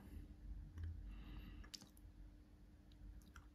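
A computer mouse clicks a few times in a quiet room, sharp brief ticks scattered over several seconds against a faint background hum.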